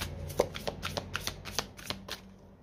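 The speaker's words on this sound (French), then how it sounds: "Allez, on prend une carte supplémentaire." Tarot cards are shuffled and drawn by hand in a quiet room, a close run of crisp riffling snaps and flicks spaced in a quick, uneven rhythm.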